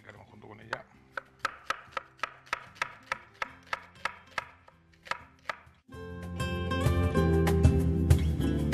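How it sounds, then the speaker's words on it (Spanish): A knife chops onion on a board in a kitchen, about a dozen crisp evenly paced knocks, close and clear, before a louder burst of frying or clatter takes over. "Vamos a picar este poco de cebolla."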